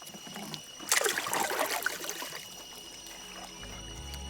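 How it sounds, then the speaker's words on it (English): A kayak paddle strokes the water on a rainforest lake in Thailand, with one close, splashing surge of dripping and trickling water that fades into quiet. "Paddling a kayak all by yourself in a Thailand rainforest?"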